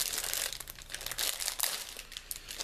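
Plastic wrapping on a lip balm gift set package crinkles and crackles steadily up close, with sharp rustling bursts and no voices.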